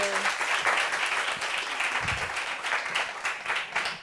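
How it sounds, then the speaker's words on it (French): Applause from an audience at a meeting, a steady, moderately loud wash of many hands clapping for several seconds, with faint voices underneath. "Applaudissements"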